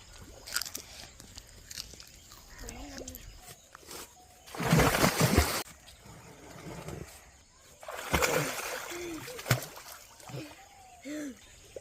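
Splashing water in a farm pond as someone wades in with feed, with broad bursts of splashing and sloshing between quieter stretches and some chewing or crunching sounds nearby.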